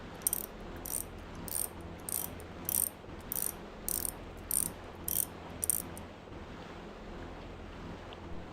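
Mechanical ratcheting clicks from installing a compressor in the Surviving Mars game, about ten evenly spaced bursts over a low steady ambient hum, then only the hum continues.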